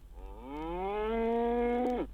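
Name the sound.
cow mooing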